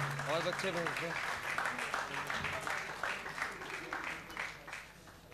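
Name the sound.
audience applause for Rashid Khan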